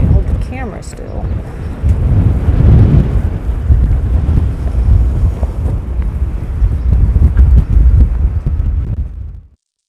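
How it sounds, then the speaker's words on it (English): Strong wind in Kansas roars and buffets the microphone in loud, rumbling gusts that continue steadily before cutting off abruptly. "it's so windy out here"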